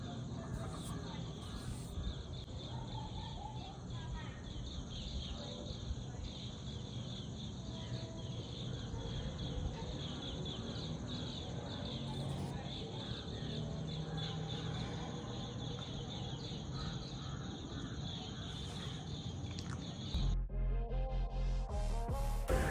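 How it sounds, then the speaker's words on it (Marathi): Birdsong and insect chirring drift in from outside a weekend home near Pune, heard from a balcony at evening: a steady, fairly faint chorus of small repeated chirps with a constant high whine, ending with a brief louder clatter. "आता मी तुम्हाला इथं बर्ड्सचं चिअर्पिंग म्हणजे पक्ष्यांचा थवा चाललेला होता आणि त्याचा मी तुम्हाला आवाज ऐकवते"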